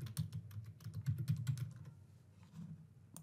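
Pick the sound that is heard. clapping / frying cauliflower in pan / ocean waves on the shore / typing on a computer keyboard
typing on a computer keyboard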